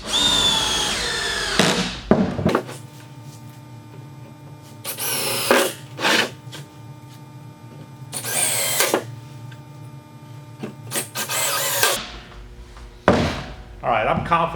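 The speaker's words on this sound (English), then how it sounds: "I'm ready to just take a couple of wood screws and we're just going to stick them down in here" A power drill drives wood screws into a wooden flat belt pulley pattern in a workshop, with several loud bursts of a few seconds each separated by pauses and low background hum.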